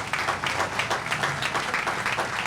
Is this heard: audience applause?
yes